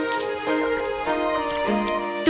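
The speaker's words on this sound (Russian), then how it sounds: "А дождик не на шутку разыгрался." A cartoon sound effect of rain falling, light dripping and patter layered over sustained musical tones from a children's song, brief and fairly soft.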